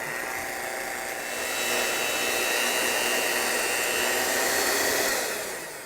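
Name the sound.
electric mixer mixing vanilla extract into zucchini bread batter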